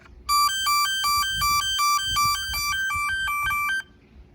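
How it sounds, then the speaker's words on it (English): A ZoneSafe proximity alert on a vehicle sounds a very loud, repeated electronic warning tone, pulsing in a fast regular beep pattern for about three and a half seconds before stopping. "hear a very loud audible indicator as well"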